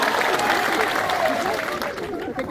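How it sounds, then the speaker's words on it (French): A school gathering applauds during a gift presentation to an NGO, dense continuous clapping with voices mixed in that tapers slightly toward the end. "On applaudit,"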